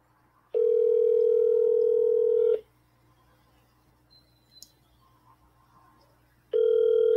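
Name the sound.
telephone ringing on an outgoing call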